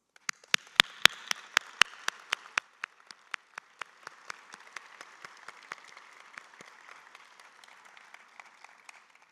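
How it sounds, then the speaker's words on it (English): Audience applause at a scientific conference's closing ceremony, a burst of sharp, evenly spaced individual claps over a soft wash of clapping that gradually thins out, heard without talk. "I'd like everyone to give you a round of applause."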